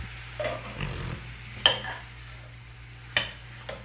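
Beef bourguignon simmering in a pot as a spoon turns it, with a low bubbling hum and a few scraping strokes plus two sharp knocks of the utensil against the pot.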